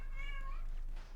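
A cat in GTA Online lets out a single short meow, clear and fairly close, lasting about a second with a faint low hum underneath.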